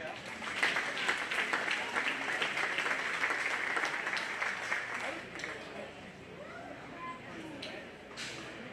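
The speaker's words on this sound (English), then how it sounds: "if we could get a round of applause for her" Audience applause for a senior 4-H/FFA exhibitor at a swine show, a dense steady round of clapping from a crowd that holds for about five seconds, then thins and tapers off with scattered claps while talk carries on over it.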